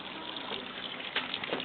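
Water gushing and pouring steadily into a small backyard grave dug for a pet fish, a continuous splashing flow with a couple of brief louder surges.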